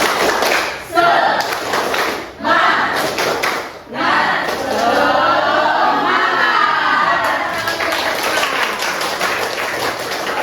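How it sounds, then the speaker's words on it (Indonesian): A school class performs a rhythmic spirit clap in unison, sharp patterned claps in quick bursts with brief pauses, then voices chanting or shouting together as the claps settle into a looser mix. "1, 2, 3, tepuk semangat"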